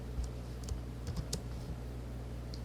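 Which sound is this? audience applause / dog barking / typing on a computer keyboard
typing on a computer keyboard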